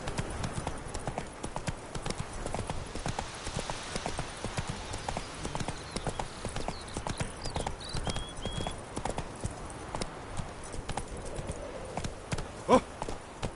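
Horse hooves clip-clop steadily in The Witcher 3 video game as a horse rides along, a continuous rhythmic trot of moderate loudness with faint background ambience and no speech.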